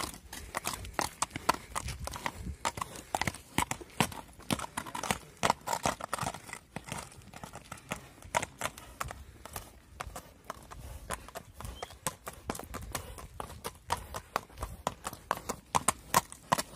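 A fast-moving horse's hooves clip-clop in a quick, steady rhythm, loud and close, sustained throughout with no talk over them.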